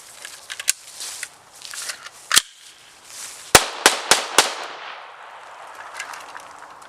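A PPS-43C submachine gun fires Russian surplus ammunition outdoors: a handful of sharp, loud cracks, one early and then four in quick, irregular succession, between quieter handling noises.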